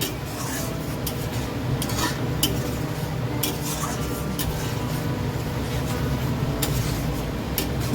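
Poppy seed paste thinned with a little water being stir-fried in a pan, with a loud continuous frying hiss and intermittent spoon scrapes, close up.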